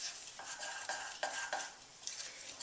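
Cinnamon roll mixture being mixed by hand in a bowl after milk is added, a series of close, scraping stirring strokes in an uneven rhythm, with no talking.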